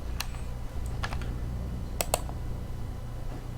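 Keystrokes on a computer keyboard, including a Ctrl S save shortcut: a few crisp clicks in small clusters over a steady low background hum, close and fairly quiet, with no talk.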